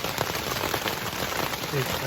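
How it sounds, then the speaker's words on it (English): Heavy rain pours steadily outdoors on the Appalachian Trail in Vermont, a dense continuous hiss of drops drumming on a surface close by, loud and unbroken throughout. "Well, it's absolutely pouring outside, as you can hear."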